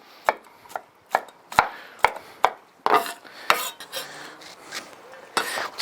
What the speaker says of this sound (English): Then I'll just cut those into kind of smaller pieces here